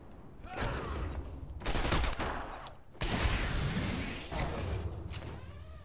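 Bursts of loud gunfire in Batman: Arkham Asylum, several sharp volleys a second or so apart, close and reverberant with game ambience between them.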